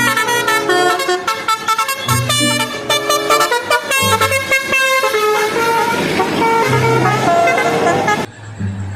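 Indonesian telolet bus horn playing a bright melodic tune of repeated musical toots, loud and close over a constant music-like backing, dropping off near the end.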